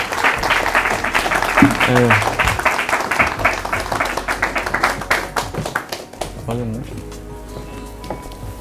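A studio audience on a talk show bursts into loud, sustained applause that gradually thins out, with a voice speaking over the clapping near the start and again at the end.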